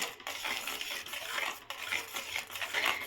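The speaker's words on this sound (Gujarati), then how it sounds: "આને હવે આપણે આવી રીતે હલાવી દઈશું" Bottle gourd (lauki) halva, tinted green, being stirred in a pan: continuous scraping and clinking of a spoon against metal, close and fairly steady with slight rhythmic swells, no talking.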